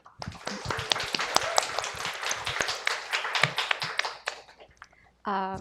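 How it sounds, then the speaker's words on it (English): An audience claps at a Korean and English bilingual poetry reading after two readers are introduced: a few seconds of scattered, fairly close hand claps of moderate loudness that fade out, followed by a voice starting to speak. "Let's give a round of applause for the two."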